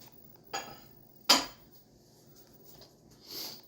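A metal pan of corn muffins set down on a counter, two sharp clanks close by, the second louder, followed by a softer brief rustle.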